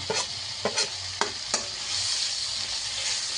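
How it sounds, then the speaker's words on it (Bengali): Mustard and poppy seed paste with a splash of water hits a hot pan and sizzles steadily, broken by a few sharp scrapes of a spatula stirring it. "একটু জল সামান্য দিয়ে এবার আমি সর্ষে পোস্তটা সব দিয়ে দিলাম"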